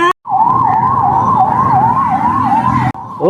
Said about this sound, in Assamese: কাক লৈ গৈছে এম্বুলেন্সত নিছে